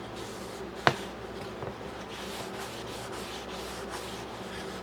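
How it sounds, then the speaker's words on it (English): A shop towel wipes excess stain off a laser-cut wooden beer flight board, making a soft, continuous, close rubbing swish, with one sharp knock near the start. "a rag like an old t-shirt, or in my case a shop towel, and just wipe it down"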